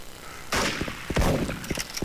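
M4 rifle fire in the BunkerBuster video game, a sudden loud burst followed by a rapid string of sharp shots and thuds at close range, with no talk.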